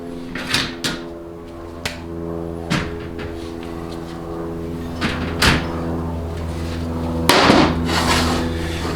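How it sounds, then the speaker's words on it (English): A hammer gently tapping a flat-blade screwdriver to seat a part into a groove on a Ford C4 transmission drum: several sharp, irregularly spaced metallic taps over a steady low hum. "take a hammer and a flat blade screwdriver and just gently tap it all the way around into the groove"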